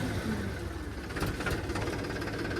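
A tractor engine revs hard at full throttle in third gear, a loud, steady, rough drone that holds level without letup and has no talk over it.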